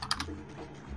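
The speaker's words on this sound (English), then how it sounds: "As someone's typing" Several quick keystrokes on a computer keyboard, clustered near the start of a one-second stretch, fairly close and moderately quiet over a low background hum.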